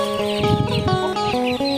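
Chickens cluck loudly and close by at a chicken coop on a rice farm, in a steady run of short calls, with a constant tonal hum underneath and no talking.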